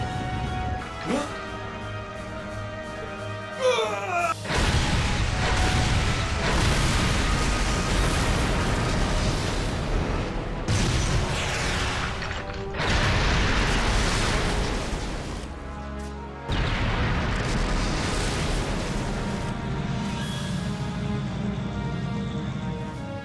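Cannon fire and explosions from a battle scene in the Trails of Cold Steel video game, heavy booming bursts repeating over about twenty seconds under sweeping music, loud and dense with brief gaps between blasts.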